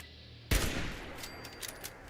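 Gunfire in the Fallout 76 video game, one sharp shot after a quiet moment, followed by a rumbling tail and faint clicks, heard alone without talk.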